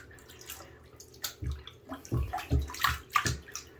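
A stamped cross-stitch kit is pressed down into a basin of wash water, making soft close sloshes and gurgles in irregular bursts, with quiet drips between.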